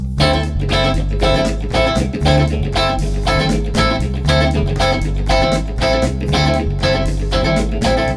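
Rhythmic guitar strumming with a full band behind it, drums and bass keeping a steady groove, loud and continuous.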